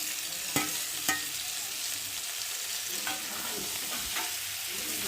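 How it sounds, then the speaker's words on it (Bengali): Shrimp and pre-fried cauliflower are tossed in spice masala in a hot pan, giving a constant sizzle with a few sharp spatula scrapes scattered through, close by and without talking. "মশলাটা দিয়ে এবার ভেজে রাখা ফুলকপিটাকে দিয়ে মশলার সাথে কষিয়ে নেব।"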